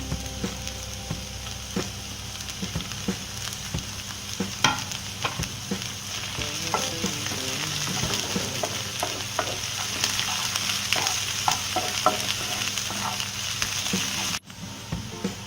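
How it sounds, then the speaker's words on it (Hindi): Vegetables and capsicum sauté in a hot pan for Indian-style Chinese veg fried rice, giving a continuous sizzle broken by frequent clattering strokes and scrapes of the spatula, close and steady until an abrupt cut near the end. "याद रखिए, सब्जियां पकानी नहीं है, बस इसे हल्का सा सौते करना है।"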